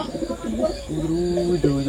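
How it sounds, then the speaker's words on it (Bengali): A newly mated pair of pigeons coo nearby in soft, rolling low calls, one coo flowing into the next. "যে কবুতর জোড়াকে আমরা জোড়া দিলাম, তো তারা এখন শীষ টানতেছে"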